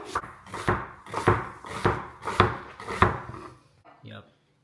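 A knife chops red onion on a board in steady strokes, about six firm, evenly spaced thuds, close and clear, before the cutting stops and a brief voice is heard at the end.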